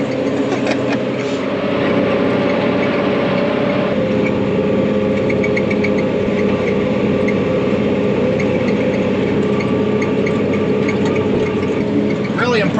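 A tractor mows a hay field, its engine a steady, loud mid-to-low drone that holds for over twelve seconds, with the mower and cutting noise blended in and no pause.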